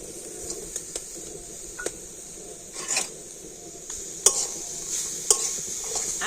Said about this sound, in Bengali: আর এবার এইরকম একটু নাড়াচাড়া করে নেব আর এইরকম নাড়াচাড়া করলে গুড়টা কিন্তু খুব ভালোভাবে গলে যাবে